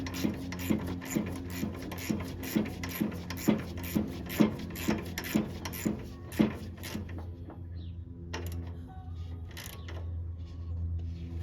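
A bolt being tightened back down on a riding lawnmower during a drive belt repair gives a steady series of about a dozen evenly spaced ratchet clicks close by, then a pause with a few scattered metallic knocks.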